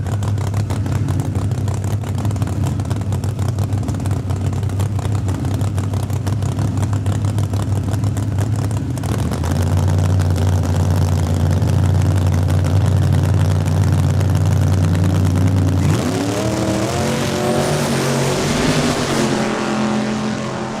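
A Camaro and a Dart Swinger drag racing at Saskatchewan International Raceway, with loud sustained engine roar and rising, shifting revs as the cars launch and pull away down the strip.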